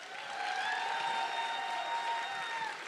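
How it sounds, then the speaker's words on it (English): Live audience applause at a fan convention stage show, a steady wash of clapping with some crowd noise that holds evenly throughout, fading slightly at the end. "Clap for the physicist."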